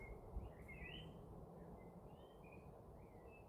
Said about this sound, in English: I've heard a little bird song.